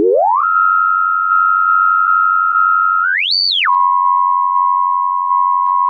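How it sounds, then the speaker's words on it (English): A Xaoc Koszalin synthesizer module outputs a pure sine tone. It glides up in pitch, holds steady, sweeps briefly higher, then drops and holds a lower steady pitch, loud and clean. "It's just a sine wave now."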